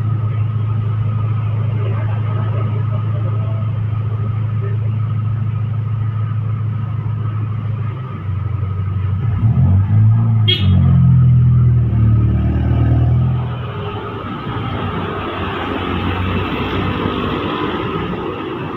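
Rosalia Indah and Budiman intercity buses entering Tidar bus terminal in Magelang, a low engine rumble that swells loudly as a bus passes close by and then fades back into the steady hum of traffic.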